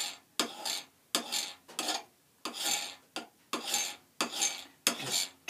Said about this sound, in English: I don't really have a proper burnisher, but the back of a gouge works pretty good.